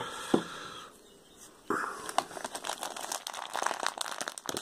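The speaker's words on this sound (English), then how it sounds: "all that's inside there is a big plastic bag" A big pink plastic bag of sand being squeezed and handled, giving close crinkling, rustling and soft crunching that starts as a few isolated rustles, then builds into continuous scrunching.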